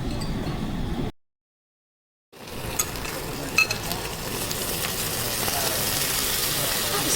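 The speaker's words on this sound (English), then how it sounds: "Sizzling." Steady broadband sizzle of food frying on a hot plate, close and continuous, with a short silent gap near the start and faint clinks.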